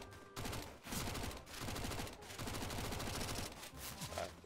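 Rapid automatic Uzi fire in the video game CS:GO, dense sustained bursts of loud rattling shots with short gaps between strings of fire.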